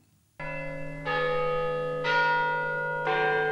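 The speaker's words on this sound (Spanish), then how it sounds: "Cada cuarto de hora las campanas repican en Torreciudad." Church bells at the Torreciudad sanctuary in Aragón ring out loud and close, three strong peals a second apart, rich with sustained overtones over a steady low hum, with no voices.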